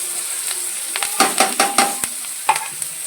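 Chopped green chili, onion and capsicum go into a hot pan for Hakka noodles, giving a close sizzle with quick stirring and scraping strokes and a few clanks of a spoon against the pan.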